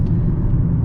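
An Infiniti G35/G37 driven in manual mode, engine pulling in fourth gear, gives a brief, loud, low rumbling drone from inside the cabin with no talking.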